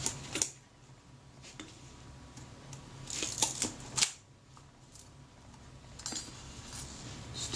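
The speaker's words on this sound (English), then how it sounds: "Cock that shutter." A Retina Reflex camera, a parts camera under repair, has its shutter cocked and worked by hand, giving several sharp, close metallic clicks and snaps spaced a second or more apart over quiet room tone.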